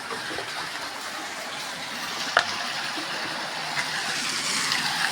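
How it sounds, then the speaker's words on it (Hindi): A household water pump motor fills water for drinking, giving a steady broad rushing and gushing wash of flowing water at moderate level, with a couple of faint clinks. "मम्मी ने मोटर चला दी पानी भरने के लिए, पीने के लिए पानी भरा जा रहा है"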